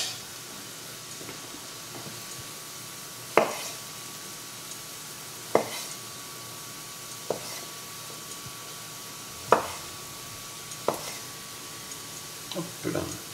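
Knife cutting small cherry tomatoes into quarters on a board, a few sharp separate taps spaced a couple of seconds apart, quiet and close, with faint kitchen background.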